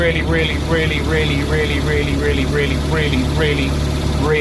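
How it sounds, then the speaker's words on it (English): A retro Italian camper's engine cranks over with a loud, rhythmic, evenly spaced churn of the starter, about eight strokes in a row at close range. "That sounds like all four cylinders have lovely even compression"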